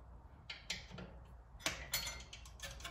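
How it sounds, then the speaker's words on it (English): Torque wrench on a wheel stud of a BMW F10 535i, giving a few faint, sharp metallic clicks and taps close by against a quiet background. "we're gonna hit it with our torque wrench"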